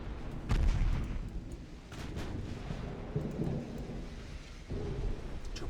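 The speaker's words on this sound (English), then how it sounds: "Torpedo hits." Torpedo hits in the naval warfare game Ultimate Admiral Dreadnoughts, deep rumbling booms rolling under a constant low roar of sea and engines, with a heavy blast early and further dull impacts after.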